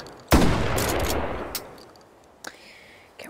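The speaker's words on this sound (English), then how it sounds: "I've always loved pump shotguns." A pump shotgun fires in a video game with one loud, sharp blast that decays into a ringing tail, followed by fainter mechanical clicks of the pump action and a soft clack near the end.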